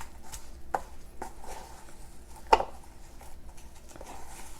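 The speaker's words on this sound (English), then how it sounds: "we're just going to mix everything together and just cut it in just like that" Cold butter being cut into a streusel topping for a purple and orange sweet potato casserole gives quiet, scattered scraping and chopping taps, with a couple of sharper clicks standing out against a faint background.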